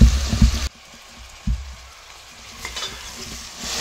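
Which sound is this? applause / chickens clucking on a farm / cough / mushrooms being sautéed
mushrooms being sautéed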